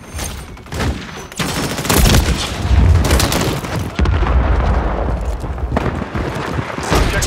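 Intense gunfire and explosions from Call of Duty Modern Warfare 3 multiplayer, dense bursts of rapid shots and booming blasts, loud and close, nearly continuous with a brief lull midway.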